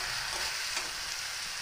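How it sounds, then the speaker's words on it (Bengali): Potatoes with turmeric and salt frying in a pan while being stirred, giving a steady close sizzle with soft scraping movement throughout and no talking. "এবার আমি ভালোভাবে নেড়ে নিচ্ছি"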